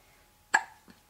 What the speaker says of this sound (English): Tell me if it's fun to have hiccups.